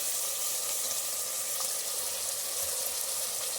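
Green peas sizzling steadily in hot oil in a home kitchen, a constant close hiss without pauses or talking.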